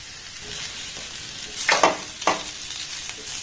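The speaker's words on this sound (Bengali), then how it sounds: "আবারও সামান্য একটু তেল আমি দিয়ে দেব।" A little oil added to a frying pan heats and sizzles with a steady low hiss, rising briefly into two sharper crackling bursts partway through, with no voices.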